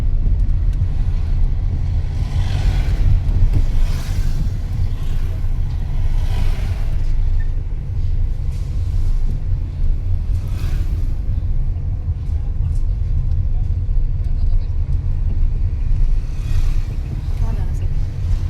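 A manual car's engine rumbles low and steady throughout a driving lesson on the road, with slight swells in the drone, while people talk over it inside the cabin.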